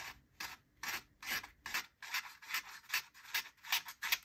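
A thin hollow-ground knife blade shaves fine curls from wood in a steady run of about ten short, rasping strokes, close and crisp, each stroke separated by a brief pause, with no voices.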